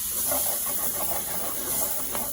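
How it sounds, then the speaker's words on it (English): Garlic sautés in a hot skillet with a continuous close hiss and sizzle, steady and unbroken by speech. "So we are just going to saute this around just about a minute in a nice hot skillet until the garlic is fragrant."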